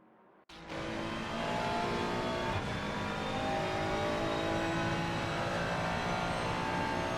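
Bentley Continental race car with a 4-litre twin-turbo V8 in the racing game ACC at Bathurst, engine roaring in as it accelerates and holding a loud, sustained drone.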